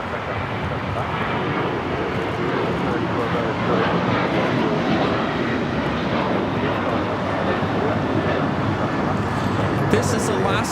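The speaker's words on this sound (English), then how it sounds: "This is Alaska Airlines Flight 6 taking off to Washington Reagan National on the 737-800" A steady, loud jet roar comes from an Alaska Airlines Boeing 737-800 departing LAX for Washington Reagan National, with people talking faintly in the background.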